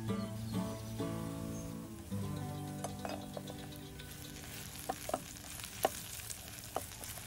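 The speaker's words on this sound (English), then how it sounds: "Just keep on working these onions, move it around so it doesn't get too charred." Onions sizzle and fry steadily on a Firebox stove, a continuous close crackle with occasional sharper pops and stirring scrapes toward the end.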